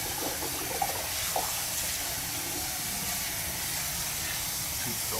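Water runs steadily to rinse out a clay soil sample, giving a continuous hissing wash with faint splashes and a couple of small clinks near the start.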